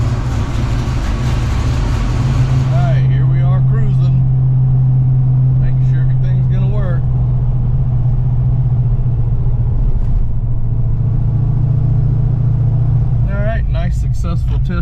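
A Ford Mustang Foxbody with its timing set to 18 degrees initial rumbles loudly at low speed during a test drive, a steady deep drone that holds throughout while people talk over it.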